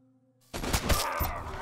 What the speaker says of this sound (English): Yeah, I'm just gonna shoot him.